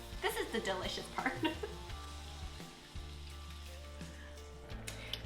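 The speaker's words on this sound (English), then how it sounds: "now it's come to a gentle simmer" A creamy garlic Tuscan salmon sauce with butter simmers in a pan, giving a gentle, steady sizzle and bubbling with occasional stirring noises, while a person talks over it.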